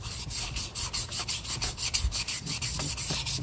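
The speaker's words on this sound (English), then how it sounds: "I've got a soaked in PV Blaster piece of sandpaper." Sandpaper soaked in PB Blaster penetrating oil rubbed against metal on a seized one-cylinder engine of a Toro Timecutter zero-turn lawnmower; steady close scraping strokes in a quick regular rhythm, loud and continuous without talk.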